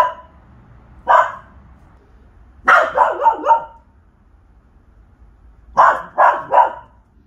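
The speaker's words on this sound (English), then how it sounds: "Do they start barking randomly inside the house or even outside the house in the garden?" A dog barks in short bursts: a single bark, then a quick run of three or four, a pause, and another group of three, loud and close against a quiet room.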